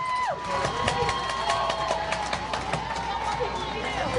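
Crowd at a high school softball championship game cheering and shouting from the stands, a busy roar with whistles and claps, heard under a commentator's voice.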